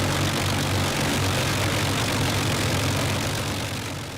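Avro Lancaster bomber engines idling at about 1,200 rpm during warm-up, a loud, steady low-pitched drone with an even throb, continuous and alone, easing slightly at the end.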